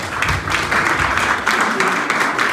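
Applause for sports commentators during a Catholic Eucharistic celebration marking a 50th anniversary, a steady wash of clapping from the congregation filling the whole stretch at moderate loudness.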